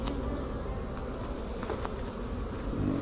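Honey bees drone steadily around an open green hive, a dense continuous buzz close by with no talk.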